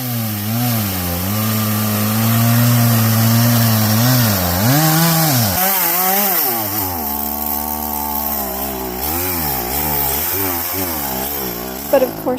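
A gas chainsaw running close by, its engine note rising and falling as the throttle is worked, loud and continuous for about twelve seconds.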